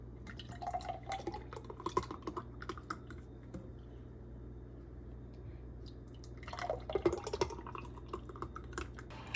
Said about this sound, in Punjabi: ਹੁਣ ਆਪਾਂ ਇਹਨੂੰ ਸਰਵ ਕਰਨ ਦੇ ਲਈ ਗਲਾਸਾਂ 'ਚ ਪਾਵਾਂਗੇ